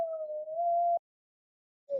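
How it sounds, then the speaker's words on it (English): A young dog howls in a single steady, drawn-out wail close by, then a brief silence before another howl starts. "She can howl too."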